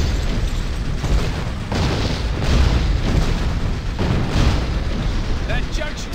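Cannon fire in the Western action game GUN, heavy booming blasts and rumbling bursts recurring through the stretch, loud and close, with someone talking over them.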